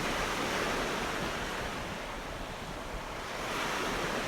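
Ocean waves wash and roar in a constant, full hiss of surf, swelling slightly at the start and end, with a windy rush and no voices.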